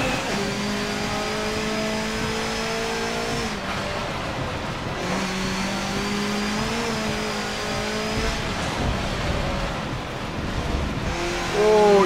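A race car in Forza Motorsport 7 revs hard with sustained, whining engine tones that climb and drop through gear shifts, loud and continuous with brief tire noise.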